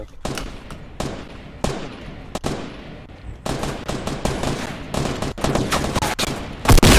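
Gunshots in Fortnite Battle Royale, a close, loud string of sharp single shots and quick bursts at irregular intervals, ending in a heavier blast.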